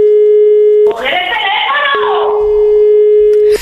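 A telephone tone sounds during a prank call: a steady, loud electronic tone is cut by a shouting voice, then resumes alone until a brief noise at the end.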